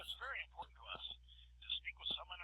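Automated voice menu from an Asterisk VoIP phone server played over a telephone line, a recorded prompt voice with narrowband phone tone and a steady hum beneath.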